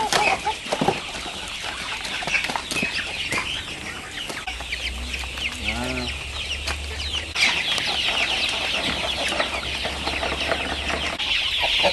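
Native free-range village chickens cluck and a rooster calls repeatedly on a poultry farm in Banyuasin, with busy layered bird chatter, a low engine-like hum through the middle, and constant outdoor bustle.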